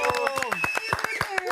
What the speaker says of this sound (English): I'm sorry that it's only cameramen clapping for you